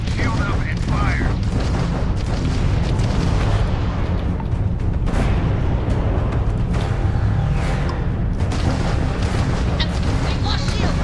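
Spaceship weapons fire in the Starfield space game, a dense and continuous barrage of heavy booms and roaring blasts that stays loud and unbroken throughout.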